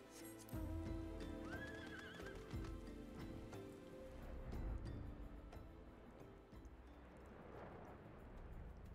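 A horse mount in Final Fantasy 14 whinnies loudly and close, and hooves clop briefly before fading into soft ambient game noise.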